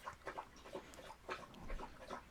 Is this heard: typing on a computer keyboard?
no